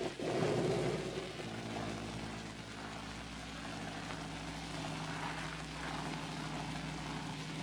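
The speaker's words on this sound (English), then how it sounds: "a chartered airplane was in the air at daybreak with an aerial survey analyzer" A chartered propeller airplane carrying an aerial radiation survey analyzer flies at daybreak, a steady droning engine hum with a low throbbing tone, loudest at the start and then holding an even, moderately distant level.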